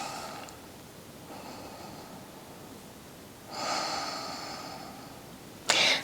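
Slow, deep breaths during a gentle yoga stretch for shoulder and upper spine mobility, soft and close, with a longer inhale swelling midway and a sharp sniff at the end.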